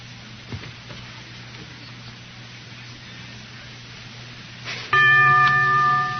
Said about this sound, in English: The bell is tolled.